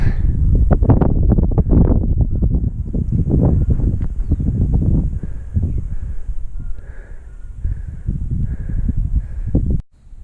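Strong wind buffeting the microphone while bicycling beside Lake Titicaca, a loud, gusty low roar that eases partway through, with faint bird calls, then a sudden cut near the end.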